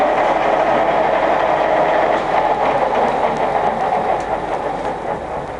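A used Microweily TY22100 centre lathe with a 105mm bore runs through its gear range, giving a loud, steady mechanical whir and hum that eases slightly toward the end. No voices are heard.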